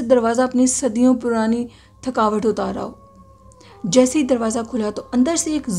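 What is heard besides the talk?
cat screeching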